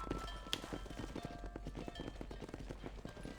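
Horse hooves galloping in the video game Red Dead Redemption, a steady rapid clip-clop that runs throughout at moderate loudness over a low rumbling background.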